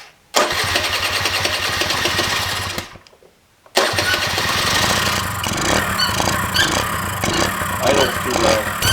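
A Honda Elite scooter, just repaired after refusing to start, cranks and catches into a loud running engine, cuts out briefly, then restarts and settles into a close, uneven low idle.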